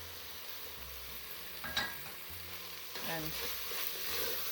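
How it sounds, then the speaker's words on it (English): Chicken mince fries in a pan with a steady, close sizzle, broken by a few scraping stirs and a brief word from a voice. "the mince has been frying for 5 minutes"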